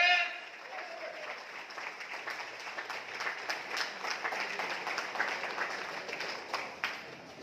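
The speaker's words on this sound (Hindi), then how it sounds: "जोरदार वाली तालियां" Steady audience applause at a rice bran oil product promotion event fills the stretch, a dense wash of clapping at moderate volume with some voices mixed in.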